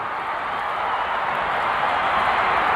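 A wrestling arena crowd roaring during a match: a steady, broad wash of massed voices, distant and unbroken, with no single sound standing out.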